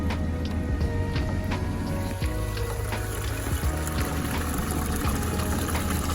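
Water pours steadily from an OASE Bio Smart 5000 koi pond filter into an overflow tube, a continuous close splashing trickle with a low pump hum underneath.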